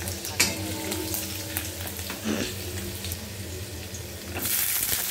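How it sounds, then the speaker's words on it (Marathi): Onion sizzles in a hot wok with oil, a close, steady frying hiss broken by scraping stirs and a few sharp crackles, the sound swelling near the end. "इथं कांदा टाकला. कांदाही चांगला परतून घ्यायचा, चांगला गोल्डन"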